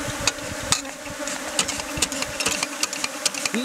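Bees buzz in a steady, close drone during venom extraction at a hive, with sharp ticking and tapping clicks recurring over the hum.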